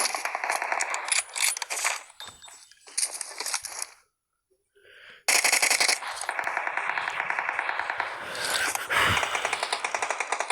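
Rapid automatic gunfire in an online shooter video game, loud, dense bursts that break off into a brief near-silence and then resume as sustained rattling fire.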